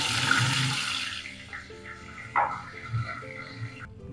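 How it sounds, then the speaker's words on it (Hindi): Water poured into a pan over fried cumin and crushed garlic-ginger while cooking masoor dal, a close splashing rush that fades into softer sizzling and clinks, with no voice over it. "और साथ इसमें डालेंगे थोड़ा सा पानी।"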